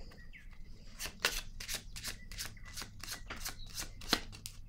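Cards handled at a card-reading table make a quick series of crisp papery snaps and flicks, fairly close and moderately soft, with no talking.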